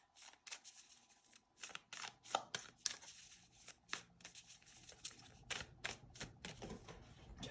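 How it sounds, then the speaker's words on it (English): Moonology tarot cards pulled and shuffled from a deck, giving a quick run of dry papery snaps and flicks, close and fairly quiet, with no talking. "I'm going to pull a couple more cards."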